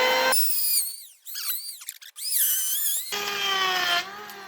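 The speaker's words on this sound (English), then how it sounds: "We'll take our new handheld planer, and we're going to make that pretty deep." A handheld power planer cuts a deep pass in wood, giving a loud high whine with sweeping pitch bends. The sound drops in and out as the tool engages and then runs on steadily, with no speech.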